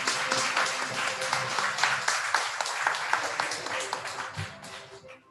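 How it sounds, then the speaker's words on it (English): Applause rings out for honorees at a 2020 Presidential Awards conferment ceremony, a steady mid-level crowd clapping that carries through the whole stretch before thinning at the end. "let us give our awardees a big round of applause."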